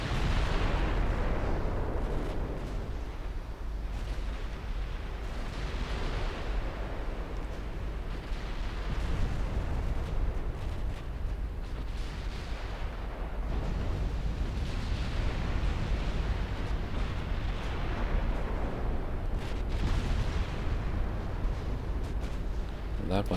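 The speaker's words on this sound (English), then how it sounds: "enemy battleship is taking quite the barrage from the Koenig" Naval artillery barrage in the video game Ultimate Admiral Dreadnoughts, German battleships firing at an enemy battleship: continuous dense booming of repeated gunfire and explosions, heavy and sustained, with a voice talking over it.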